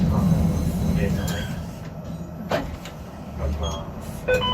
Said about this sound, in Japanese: 一旦電車を発車いたします。